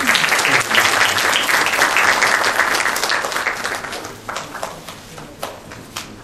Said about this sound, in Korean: 좀 박수로.